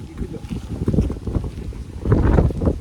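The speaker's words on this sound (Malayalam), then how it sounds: "കാറ്റോട് കാറ്റ്." Strong wind on a hilltop temple climb buffets the microphone in a continuous low, gusty roar that swells louder near the end.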